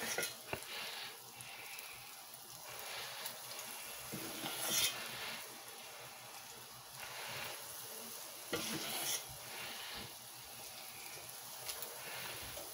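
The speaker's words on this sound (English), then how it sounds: "sizzles up." Vegan mochi donuts sizzle steadily as they fry in hot oil, a continuous crackling hiss with occasional louder bursts, close up and without talk.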